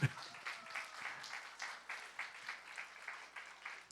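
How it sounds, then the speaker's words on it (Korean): A congregation at a youth church worship service breaks into applause, a soft, fairly distant patter of clapping that swells in uneven waves over a few seconds. "예, 박수를."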